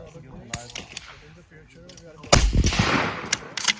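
A CZ centrefire rifle fires one loud, close shot with a heavy boom that rings out briefly, preceded by a few light mechanical clicks and handling noises.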